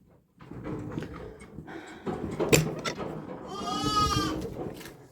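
Shuffling and knocking noises, then a loud, wavering bleat from a sheep close by near the end.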